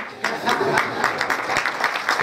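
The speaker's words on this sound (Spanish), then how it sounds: "fuertes aplausos, por favor" Applause from an audience at a tribute event in honour of Benigno Ballón Farfán, a dense steady patter of many hands held throughout at moderate loudness.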